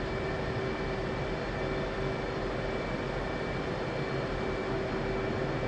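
A steady, loud military jet engine idles before taxiing in the flight sim DCS World, a constant broadband roar with a sustained tonal whine running evenly throughout, with no voices.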